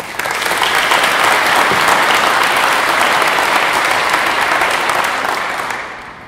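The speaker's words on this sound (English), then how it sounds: "can we get a round of applause for the rest of the team?" A keynote audience at a conference applauds the team with a full, steady round of clapping that holds for about five seconds, then tapers off at the end.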